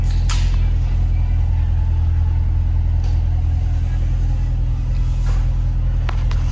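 A Chevrolet C7 Corvette V8 runs steadily after starting, a deep, loud low rumble holding throughout with a few brief clicks and knocks over it.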